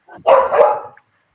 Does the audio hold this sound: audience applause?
no